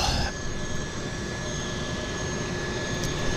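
Aircraft engines drone steadily at Vancouver Harbour Airport, a continuous, fairly loud broadband roar with a faint high tone running through it and no talk.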